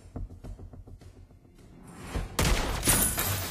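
A few quiet thumps, then a sudden loud gunshot burst from the hero Lesley in Mobile Legends that rings out into a long, noisy, echoing tail.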